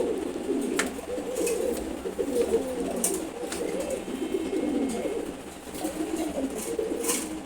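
A pair of khaki pigeons coo in low, repeated rolling phrases at close range, with faint background noise and no talking.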